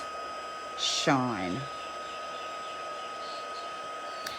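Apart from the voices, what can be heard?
Stampin' Up heat tool heating embossing powder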